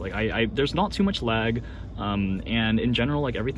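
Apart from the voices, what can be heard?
No everyday noise stands out behind the speech.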